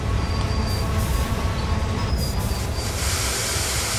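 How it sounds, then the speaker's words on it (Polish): A locomotive braking hard on its independent brake in Train Sim World 2, with a steady loud rumble of rolling wheels and a thin high brake squeal holding throughout, no talk over it. "No to było ostre hamowanie"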